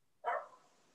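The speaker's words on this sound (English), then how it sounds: "apologies for my dog barking." A single dog bark sounds indoors during a video call, one sharp moderately close woof that trails off quickly into quiet room tone.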